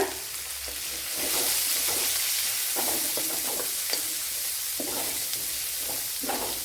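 Chopped onion and carrot frying in a pan, a loud, steady sizzle with occasional stirring scrapes and small pops, with no talking.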